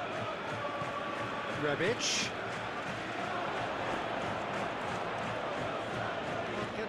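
A packed football stadium crowd roars steadily during an AC Milan comeback against Inter Milan in a Serie A derby. The dense wash of noise runs under a commentator's voice, with a short surge partway through.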